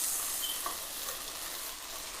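Mushrooms stirred and cooked down in a pan, a steady close sizzle with soft scraping of the utensil throughout.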